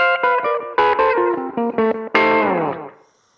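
Country-style electric guitar lick with rapid picking, a quick run of bright, slightly distorted plucked notes ending on a ringing chord that fades out, played alone and up close.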